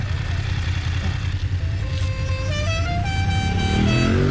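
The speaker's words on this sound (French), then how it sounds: "Il y a un klaxon du tour de cyclisme en Corse." A horn from the Tour de Corse cycling race on a Corsican mountain road between Bonifacio and Zonza–Bavella, sounding as a series of rising tones that stretch over steady loud motorcycle engine and wind rumble.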